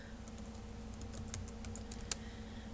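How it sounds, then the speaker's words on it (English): Quiet, steady typing on a computer keyboard during C++ programming, with rapid light key clicks and one sharper keystroke near the end, over a low background hum and no talking. "I'm going to type this"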